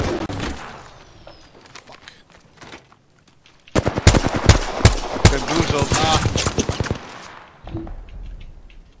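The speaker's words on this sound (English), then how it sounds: "Enough, I'm getting shot at!" Gunfire in the Apex Legends video game, rapid automatic bursts packed loud and close for several seconds after a quieter stretch, with a couple of trailing shots.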